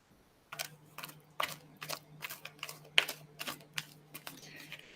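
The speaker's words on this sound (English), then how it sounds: "So I'm shuffling the cards" Tarot cards from the Good Tarot deck are shuffled in a soft, regular series of about a dozen quick riffling snaps, close and quiet over a faint steady hum.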